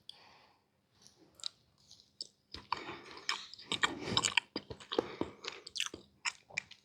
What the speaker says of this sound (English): Let me just taste the cornbread by itself.